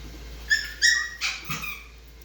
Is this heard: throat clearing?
no